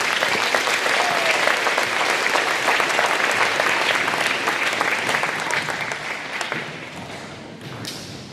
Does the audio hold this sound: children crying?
no